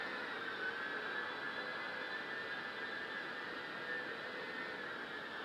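QX70 model jet turbine engine in flight with a raspy edge, a steady whistling roar with a high-pitched whine held at constant power, distant and fairly faint, no voices.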